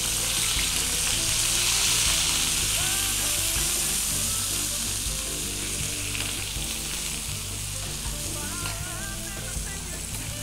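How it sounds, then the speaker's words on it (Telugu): Grated bottle gourd frying in ghee gives a loud, steady sizzle with stirring scrapes throughout, close up and without talk. "ఇప్పుడు సొరకాయ తురుమును కూడా వేసుకొని బాగా ఫ్రై చేసుకోవాలండి."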